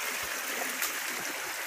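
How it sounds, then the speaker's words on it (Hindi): A small waterfall stream on a forest trail near Kharghar rushes steadily, a close, continuous broadband wash of flowing water with faint splashes and no talk. "देखो इधर से झरना जाते, थोड़ा छोटा छोटा झरना है"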